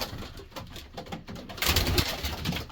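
Racing pigeons in a breeding loft give soft, low coos, with rustling and shuffling close by that grow louder and busier toward the end.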